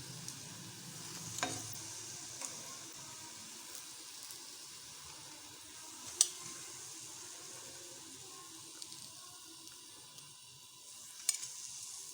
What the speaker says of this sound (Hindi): कटलेट्स हमारे माशाल्लाह से बहुत अच्छे फ्राई हो गए हैं।